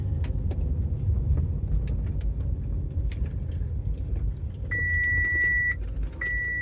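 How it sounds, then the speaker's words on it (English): A car rolls across a parking lot with a steady low engine and road rumble, close by, joined by repeated electronic warning beeps toward the end. "Let me go ahead and shoot this car across the lot here and park myself right here instead."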